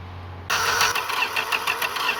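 A 1966 Dodge Dart's engine is cranked but does not start, giving a loud, rapid, rhythmic churning that begins abruptly and continues with no sign of catching, with no talk.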